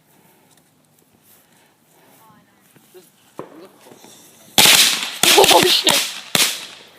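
A whole box of firecrackers set alight outdoors erupts in a rapid volley of loud, sharp cracks and bangs after a quieter stretch, with a few people talking and reacting nearby.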